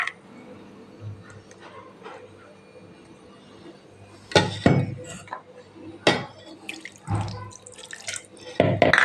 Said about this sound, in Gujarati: મિક્સર જારની અંદર આપણે રહી ગયું હોય ને એમાં અડધા કપ જેટલું પાણી ઉમેરી